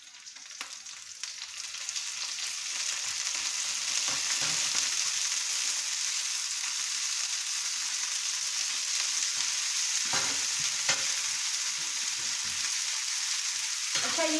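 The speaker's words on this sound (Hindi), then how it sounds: "इस स्टेज पे जाके मैंने ये जो कीमा है चिकन का है, ठीक है, वो ऐड कर देना है" Chicken keema sizzles and fries steadily on a hot tawa for Pakistani-style tawa qeema, a dense continuous crackle with occasional stirring scrapes, no voices.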